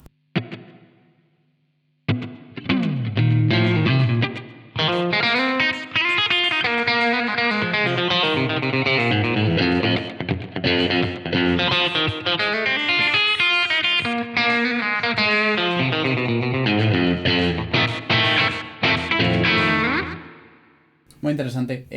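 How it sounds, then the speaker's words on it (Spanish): An electric guitar played through the Blackstar St. James amp plugin with saturation turned up, heavily distorted with echo, chords and lines ringing continuously and loud for most of the passage after a brief quiet start. "vamos a subir la saturación."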